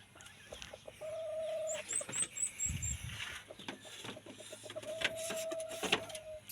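A labuyo jungle fowl rooster clucking in short, close calls, accompanied by a faint high whine and scattered background sounds.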